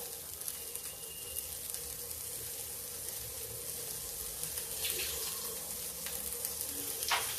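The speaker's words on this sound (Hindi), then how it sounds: "देखा प्याज भून रहा है।" Onions fry in a pan with a faint, continuous sizzle and a few light clinks and scrapes near the end, no voices.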